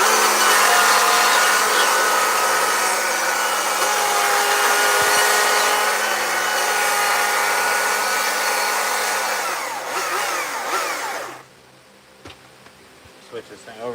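A chainsaw carving a wooden moose runs loud and close, a steady buzzing whine holding for about eleven seconds before cutting out, followed by a few faint knocks.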